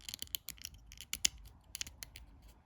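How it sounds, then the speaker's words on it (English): The plastic combat dial of a Heroclix figure is turned, giving a rapid series of small, dry ratcheting clicks close to the listener, with no talking. "you have your combat dial that turns"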